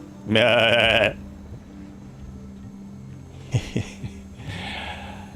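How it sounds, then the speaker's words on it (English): A farm animal bleats or moos once, loud and close, in a short drawn-out call, followed by quieter scattered animal calls and soft background noise. "Is that a moo?"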